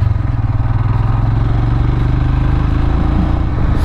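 A Royal Enfield Himalayan motorcycle cruises along a quiet country road, its steady engine thrum and low exhaust rumble continuous and close throughout, with wind noise over the top.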